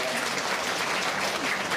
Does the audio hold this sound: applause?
yes